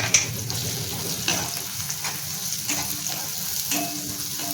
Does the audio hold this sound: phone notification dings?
no